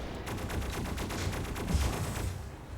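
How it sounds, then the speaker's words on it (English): Rapid bursts of heavy weapon fire from a fusion cannon in a video game, a steady run of repeated close blasts with a few louder thumps near the end and no talk over it. "here come this fool with a dang fusion cannon"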